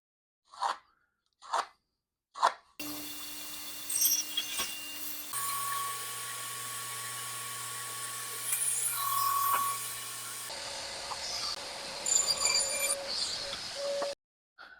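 Power saw cutting through wooden fence pickets to length for a small box, a steady whining cut that changes pitch partway and runs for about twelve seconds after three short taps.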